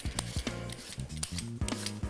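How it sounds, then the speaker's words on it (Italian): Potatoes being peeled for a Lombard potato rösti, giving repeated short scraping and rubbing strokes at close range over a steady background, with no talking. "Cominciamo sbucciando le patate."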